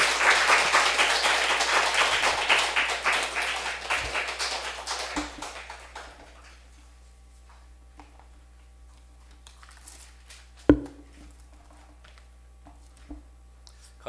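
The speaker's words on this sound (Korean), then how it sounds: "큰 박수로 함께 모셨으면 좋겠습니다." At a Sunday church service, the congregation gives warm applause to welcome the pastor for a first sermon. The dense clapping swells at the start, fades out after a few seconds and leaves a quiet room with a few scattered knocks.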